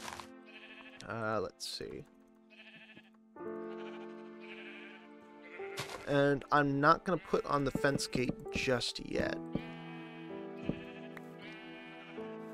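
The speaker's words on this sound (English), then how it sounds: "I'll need to shuffle more sheep in." Sheep bleat repeatedly in Minecraft, on a plains biome near a forest, with several blocky baa calls rising and overlapping while someone talks over them.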